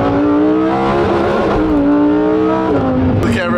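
A car engine revs hard as the vehicle accelerates fast, its loud, close drone sweeping up and down in pitch with a brief squeal near the end.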